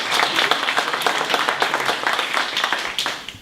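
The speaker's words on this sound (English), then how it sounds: "Everybody give him a round of applause." Audience applause at a Detroit youth public debate on transit, a steady burst of many hands clapping close and loud, continuing evenly throughout without talk.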